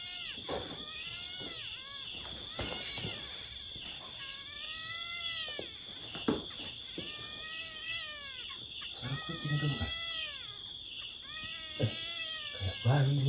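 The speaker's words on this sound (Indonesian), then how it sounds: "Kucing." A cat meows repeatedly, its rising and falling cries spread through the clip at moderate distance, over a steady high-pitched electronic whine and faint background noise.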